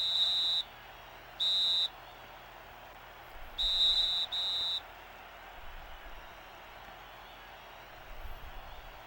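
Four short, shrill referee whistle blasts from an NFL football video game, the first two separate and the last two close together, each sharp and loud over a faint crowd bed, followed by quieter game ambience.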